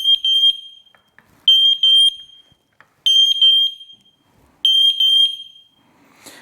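Several smoke detectors shriek together in loud, piercing beeps during a test, sounding in four evenly spaced groups of pulses with silent gaps between them.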